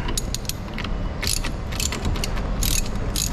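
A 24 mm ratchet wrench turns on a square-body Gol car, giving rapid metallic clicking in short bursts over a steady, close mechanical background, with no speech.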